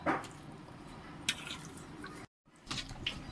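Wet squishing and dripping as small fish are swished and squeezed in water while being rinsed, with a brief pause before more splashing.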